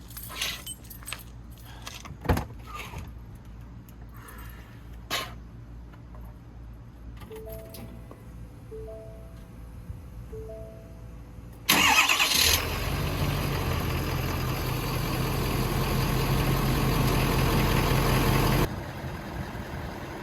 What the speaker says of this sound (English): All right, I'm gonna start it up, and hopefully I don't get any leaks down here.